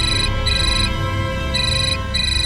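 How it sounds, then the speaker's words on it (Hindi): A phone rings with a steady electronic ringtone, a bright repeating tone pattern that pulses in even cycles about a second apart, clear and fairly loud throughout. "तुम्हारा फोन बज रहा है"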